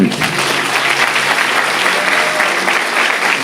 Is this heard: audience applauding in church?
yes